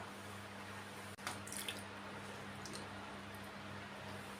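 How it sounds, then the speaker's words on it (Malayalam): Water splashing and dripping as a dried gram-flour face pack is rinsed off the face at a sink, with a sharp splash near the start followed by a steady wet trickle. "നമുക്കിതൊന്ന് വാഷ് ചെയ്ത് കളയാം കേട്ടോ"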